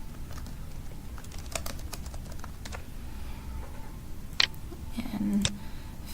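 Quiet computer keyboard typing, scattered soft key clicks at an irregular pace under a low room hum, with one sharper click near the end.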